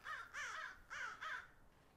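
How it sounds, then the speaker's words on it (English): Four harsh caws from crows outdoors, in two pairs, faint and somewhat distant against a quiet background, no talk. "Crows."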